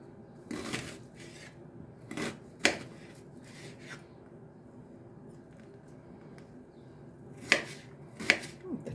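A knife chops an onion on a cutting board in short irregular bursts of crisp strokes, with quiet pauses between them.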